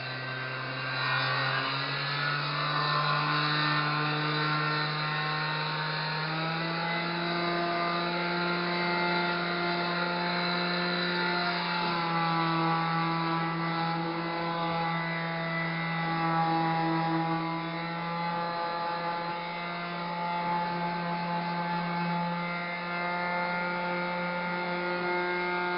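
A palm sander works over a grooved bathtub surface, giving a steady, continuous motor hum and whine that holds close and fairly loud for the whole stretch, with no voices.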